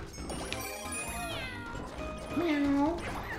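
A cat meows in the video game Super Mario 3D World, a rising and falling cartoon meow among game sounds, with people talking over it.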